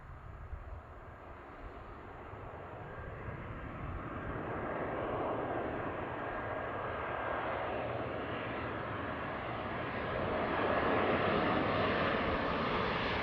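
A Delta jet airliner flies past at Seattle airport, its steady broadband engine roar swelling louder toward the end, with no voices.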